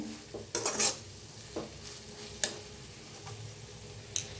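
Masala for a Maharashtrian potato usal roasting in a pan, with sparse spatula scrapes and taps against the metal over a low background hiss, a clustered rattle early on, then isolated clicks.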